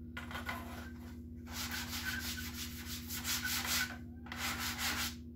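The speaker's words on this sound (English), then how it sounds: "I'll just sand that a little bit." Hand sanding a Guitar Hero guitar faceplate, with close, clear back-and-forth rasping strokes in several bursts separated by short pauses, over a constant low hum.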